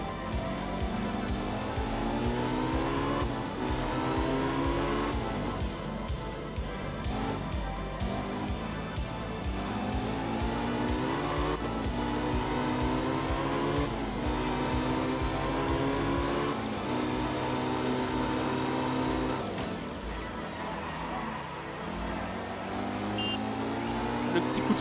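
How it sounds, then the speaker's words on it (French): Rally car in the game Art of Rally, drifting and handbrake-sliding: an engine revving up and down in repeated rising sweeps, loud and continuous throughout. "on a une caisse qui drift facilement et qui glisse au frein à main"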